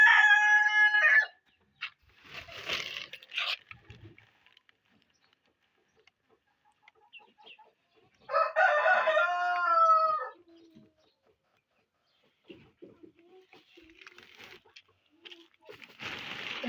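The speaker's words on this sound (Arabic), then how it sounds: "وهنا دايره واحد 2 دجاجات بلديات، ودايره معاهم هاد الفروج هذا" Free-range local hens and a young rooster kept together: crowing and clucking calls come in bursts at the start, in the middle and at the end, with quiet stretches and faint scattered bird sounds between.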